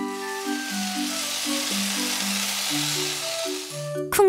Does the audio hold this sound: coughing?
no